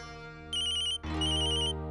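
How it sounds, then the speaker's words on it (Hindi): A phone rings with a bright electronic ringtone, two short bursts of chiming tones over a sustained musical background, close and clear with no talking. "फोन आ रहा है"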